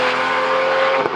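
A Lamborghini Diablo engine revs hard and loud, a dense, sustained mechanical roar with a raspy, gritty edge and a slight dip near the end.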